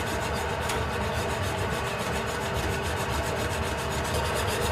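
A whisk works cornstarch thickener into a pot of lobster bisque, producing a continuous, close, rapid rhythmic scraping and swishing with no pauses.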